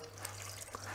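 Water being poured into flour for a rustic pita dough, a soft steady trickle and splash running throughout over a low constant hum, close and quiet.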